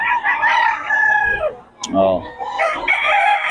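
A young rooster, a stag, crows loudly and close by in a long strained call, breaks off briefly, then crows again, with a man's short exclamation and clucking fowl in between.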